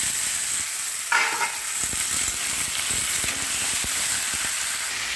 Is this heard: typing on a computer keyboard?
no